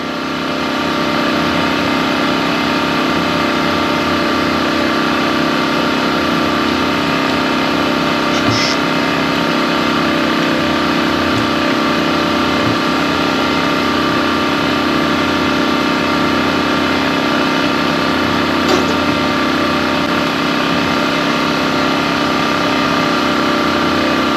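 A Champion portable generator engine runs steadily, giving a continuous mid-pitched drone for the whole stretch with a couple of faint clicks and no speech.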